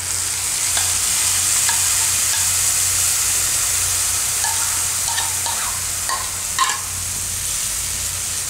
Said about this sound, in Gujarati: આ રીતે કરીએ ને આપણે હલાવતા રહેવાનું આને.